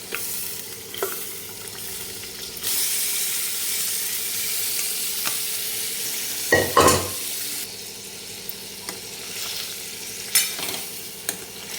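Cooked mutton added to a sizzling spicy masala in a pan and stirred, steady frying hiss with scraping and a couple of louder clanks of a spoon against the pan, no talking.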